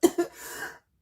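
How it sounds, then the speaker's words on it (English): A short coughing fit, two sharp close coughs followed by a rougher throat-clearing rasp, all within about a second and then silence. "a bit of a coughing fit there"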